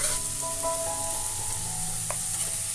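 Chopped onions frying in a pan, a close, steady sizzle with a faint utensil clink partway through, continuous with no talking.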